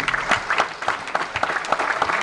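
An audience at a Miss Somme beauty pageant in an Abbeville theatre claps steadily, a dense, fairly loud patter of many hands that continues throughout.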